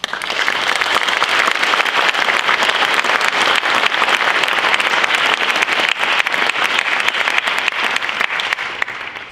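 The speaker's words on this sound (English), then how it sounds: "Can we give you a hand of applause?" Loud, sustained applause from a large crowd at a college baccalaureate ceremony for graduates, steady clapping throughout with no break.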